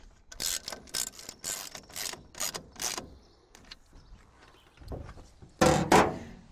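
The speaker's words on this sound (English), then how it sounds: "Slightly tighten down your nuts onto the rail." A ratchet wrench tightens nuts onto the rail of a TruXedo Deuce pickup truck bed cover, giving bursts of close, sharp clicking strokes, a quiet pause, then a final louder flurry of clicks.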